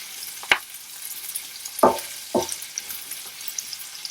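Long-sliced onions frying in a pan are stirred with a ladle, three sharp scrapes over a low, steady sizzle, close by and without voices.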